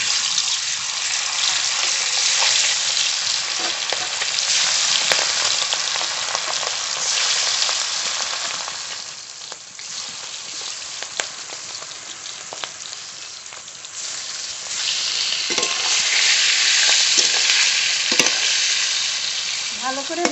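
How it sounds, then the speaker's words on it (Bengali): Pangas fish rubbed with salt and turmeric fries in hot mustard oil in a kadai, giving a steady, dense sizzle that swells and eases with occasional stirring scrapes, close and loud with no talking. "তেল খুব ভালো করে গরম করে নিয়েছি লবণ হলুদ মাখানো পাঙাশ মাছ দিয়ে দেবো"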